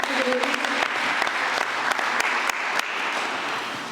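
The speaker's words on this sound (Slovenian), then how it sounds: "en velik aplavz seveda za naše sogovornike" An audience at a panel discussion on a military museum anniversary in Pivka claps together in a dense, steady burst of applause, close and full, slowly tapering off near the end.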